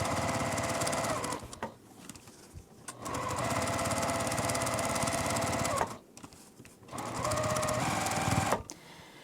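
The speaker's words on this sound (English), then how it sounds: "we're just going to run a top stitch up the sides and across the top" Domestic sewing machine running long top-stitch passes along the side panels of a fabric multi-zipper pouch, with a 1/4 inch seam allowance and lengthened stitch, three sustained loud whirring bursts separated by brief pauses, no talking.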